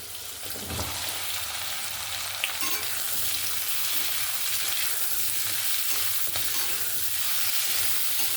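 Brinjal, potato and Malabar spinach stems fry in a hot pan while being stirred, giving a steady close sizzle with soft scraping strokes throughout.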